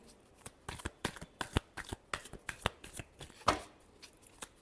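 Tarot cards are shuffled by hand in a rapid run of crisp, close riffling slaps and flutters, irregular bursts over a quiet room, with no talking.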